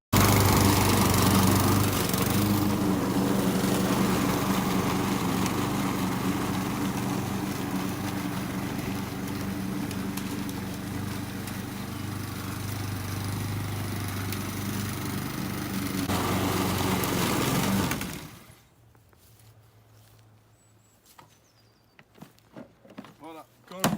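An Etesia walk-behind lawn mower with steel rear wheels and a grass collection bag drones loudly and steadily nearby, then cuts out, leaving quiet with faint scattered noises.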